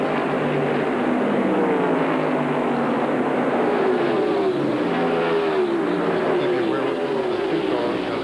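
Several NASCAR Winston Cup stock cars, including a Budweiser Ford, race in a pack around Dover Downs in 1993, a loud continuous engine roar with rising and falling whines as cars pass, carrying on steadily throughout.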